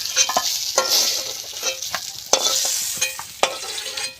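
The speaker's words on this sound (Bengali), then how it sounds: "পটলটা ভাজা হয়ে গেছে এবার আমি তুলে নিই" Pointed gourd (potol) sizzling loudly in oil in a pan, a dense crackling hiss broken by sharp clinks and scrapes of a spatula stirring at irregular intervals.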